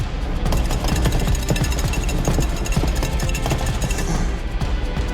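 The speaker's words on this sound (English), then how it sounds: "whisk going 10 to the dozen" Rapid, relentless whisking in a competition kitchen, a dense rattling tap of metal against a bowl at high speed, loud and continuous with no talk.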